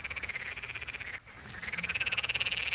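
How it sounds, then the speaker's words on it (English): A sampled chorus of frogs croaks in a fast, steady pulsing rhythm, dense and continuous, with a brief dip partway before the rapid croaking swells back louder. "Quite a long sample and a short sample of frogs."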